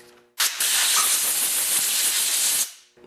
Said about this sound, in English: I'm going to air blow it a bit with my air compressor just to make sure that